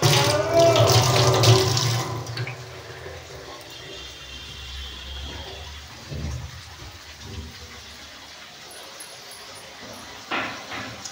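Hands are washed under a running kitchen tap during home cooking, with a louder splashing rush at first that settles into a steady, softer trickle.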